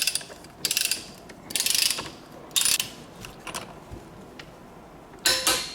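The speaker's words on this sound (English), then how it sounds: "I'm going to torque this only to 33 pounds" Torque wrench ratcheting while a carbon fiber steering wheel bolt is tightened on a C8 Corvette, heard as several short bursts of close, crisp clicking separated by quiet pauses.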